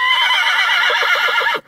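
A purebred Kyrgyz horse gives one loud, close whinny lasting over a second and a half, with a bright, wavering tone that breaks into shaky pulses before cutting off.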